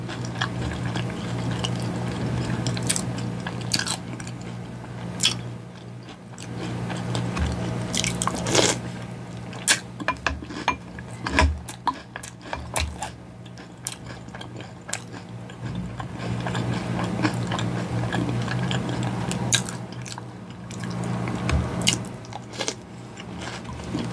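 Someone eats Cocoa Puffs cereal with milk up close, a steady stream of wet crunching and chewing with sharp bites and soft squishes for the full stretch.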